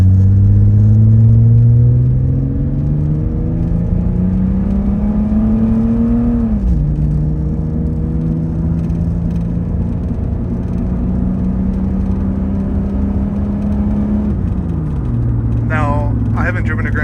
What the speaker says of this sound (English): Let me go ahead and stop here and we'll do a 0 to 60 if we can even hit 60 by the end of this road.